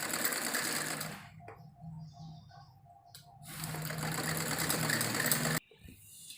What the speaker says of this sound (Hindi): इस तरह से हमें इसी के ऊपर डबल सिलाई लगाएंगे अब।